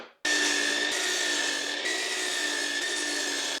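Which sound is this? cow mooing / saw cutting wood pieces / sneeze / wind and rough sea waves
saw cutting wood pieces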